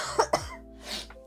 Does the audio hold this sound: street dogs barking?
no